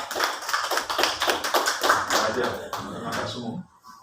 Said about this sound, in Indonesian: Sekali lagi kita beri tepuk tangan yang meriah.